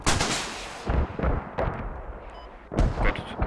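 Small arms gunfire in the video game Squad, a rapid burst of loud close shots followed by further sharp cracks, with a fresh volley near the end.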